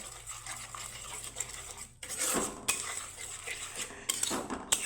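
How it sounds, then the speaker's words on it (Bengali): A spoon clinks and scrapes against a pan as ground cumin and coriander are stirred and sautéed for a vegetarian soya dish, with a few sharper metallic knocks over a faint sizzle. "এখন মশলার সাথে সুন্দরভাবে কষিয়ে নিব"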